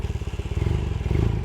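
A 1978 Honda CB400A Hondamatic motorcycle engine catches and idles with a steady, close, throaty pulsing rumble and light mechanical clatter, slightly louder than stock.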